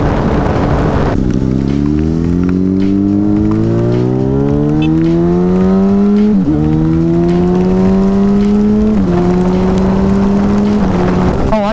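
A Yamaha FZ6 motorcycle ridden on wet roads in the rain, its engine pulling hard through repeated upshifts, each climb in revs cut by a brief dip, loud and close with steady wind rush.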